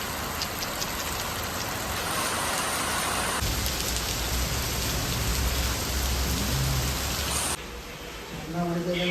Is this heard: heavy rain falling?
yes